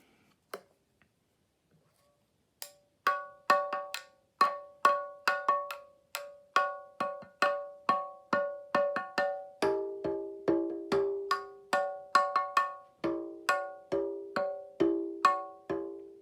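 Steady hollow taps on a home-made drum, struck in a regular rhythm with ringing, bell-like, glassy tones that shift pitch partway through.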